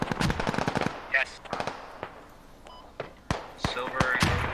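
Rapid bursts of automatic gunfire crack out in a squad-based military shooter game, sharp repeated shots in quick clusters with a few isolated single reports, mixed with voice chat.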